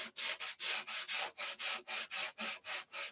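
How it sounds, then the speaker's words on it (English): Hand sanding on a wooden model airplane, a steady back-and-forth rasp of about a dozen even strokes, close and loud with no talk. "I've been sanding all day"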